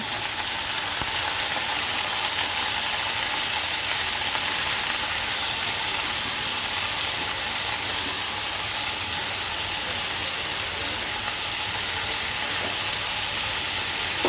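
Vegetables with salt, turmeric and coriander powder sautéing in a pan, a constant loud hissing sizzle that stays even throughout without any talking.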